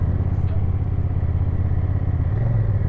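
A BMW F900 XR motorcycle engine idles steadily after start-up on a group test ride, a loud, continuous low rumble with faint mechanical clatter and no talk over it.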